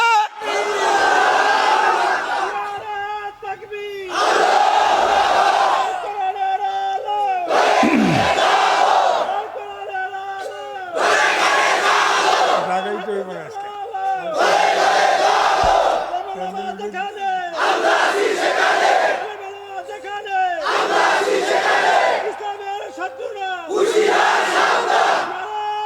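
A large crowd chants the Nara-e-Takbir slogan in loud, rhythmic bursts, roughly every three seconds, with short pauses between calls and a lead voice prompting each round.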